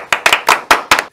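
A few people in a band's studio clap in a short, sparse burst of about five sharp, close claps.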